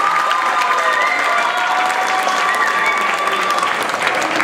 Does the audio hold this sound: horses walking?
no